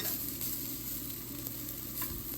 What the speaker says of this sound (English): I don't know if you can hear that sizzle or not.